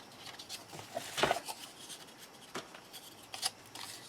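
Scissors cutting a small strip off the paper underpiece of a mini album, a few quiet close snips and paper rustles with soft handling noise between them.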